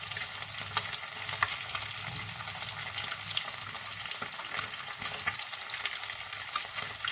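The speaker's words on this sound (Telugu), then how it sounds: "చూసారా ఇంత బాగా గోల్డెన్ కలర్లో ఫ్రై అయ్యాయో" Fish pieces fry to golden in hot oil, giving a dense, unbroken sizzle with small crackling pops throughout, close and moderately loud, with no voices.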